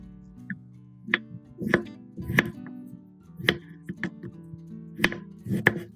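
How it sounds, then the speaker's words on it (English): A knife chops food into bite-sized pieces on a cutting board, about eight distinct crisp thuds at an uneven, unhurried pace, close and clear with a soft background hum. "Then slice them into bite-sized pieces."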